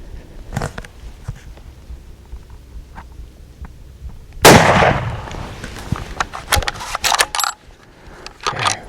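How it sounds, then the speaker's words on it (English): A single loud rifle shot fired at a spotted boar during a Texas Hill Country hunt near Rocksprings, with a sharp crack midway through and faint rustling and clicks before and after. "Its head is facing right at us, so we're gonna take a shot."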